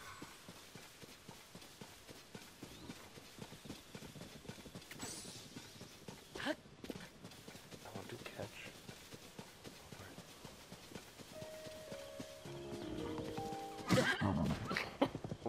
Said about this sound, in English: Oh, it's just horses